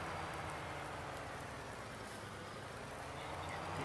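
Rain in Farming Simulator 19 on a farm map: a steady, even hiss of falling rain with a dense patter, continuous and unchanging in level throughout, with no voices.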